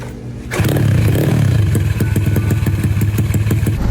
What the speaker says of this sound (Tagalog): Sige na, pandarin mo na ako, Gian. Gusto ko nang umandar